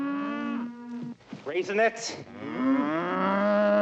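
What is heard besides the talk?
cows mooing in the film Blazing Saddles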